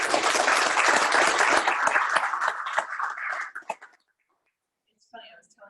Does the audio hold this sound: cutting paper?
no